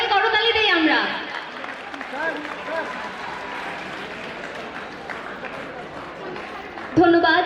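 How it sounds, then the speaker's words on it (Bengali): An audience at a Chittagong College farewell ceremony claps in sustained applause, a dense crackle of many hands filling the hall, with a voice speaking over the start and end. "সবাই করতালি দেই আমরা।"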